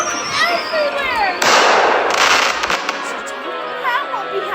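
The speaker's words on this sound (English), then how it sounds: "The fireworks flew everywhere." Fireworks bursting in a loud, dense crackling spray of pops and booms, with whistling trails before and after, mixed with voices.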